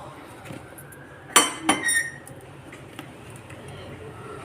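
A cooking pan set down on a stove, a quick metallic clank followed by a second lighter knock and brief rattle, close up, with a quiet background.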